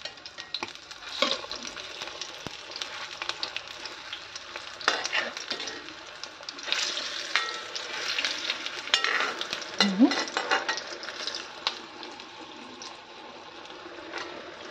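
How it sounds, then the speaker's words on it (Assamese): Pitha cakes frying in a pan with a continuous sizzle, broken by bursts of scraping and stirring as they are turned. The cooking noise is close and moderately loud throughout. "ইফালে পিঠাকেইটা লৰাই দিম মই ধুনীয়াকৈ এতিয়া"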